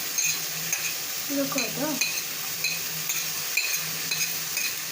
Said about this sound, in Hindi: तो ये फ्राई होके भेलपूरी बनेगी।